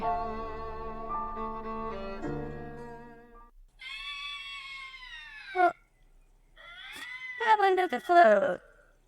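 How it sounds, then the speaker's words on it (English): Bobcats let out long, wavering, high-pitched screams and yowls, loud and eerie, broken by brief silences, with harsher overlapping cries near the end. "So, what you heard there were bobcat noises."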